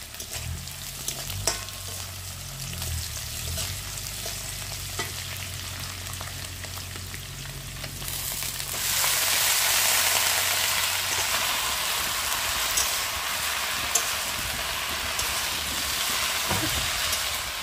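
Taro greens frying in a little fish oil, a steady close sizzle that swells into a louder, brighter hiss partway through, with no voices present.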